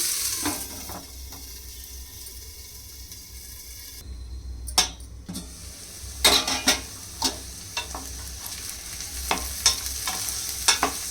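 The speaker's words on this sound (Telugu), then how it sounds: "నెయ్యిలో ఆనియన్ మంచిగా ఫ్రై అయ్యాయి." Onions sizzling and frying in ghee inside an AMC cookware pot for mutton pulao, a steady soft hiss punctuated by several sharp clinks and scrapes of a stirring utensil against the pot.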